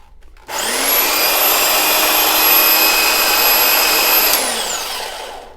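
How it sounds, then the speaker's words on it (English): Electric hedge trimmer powered from a portable power station whirs up at about half a second, holds a steady high buzzing drone for roughly four seconds, then winds down, loud and close with no talking. "I just take a hedge trimmer with a power station"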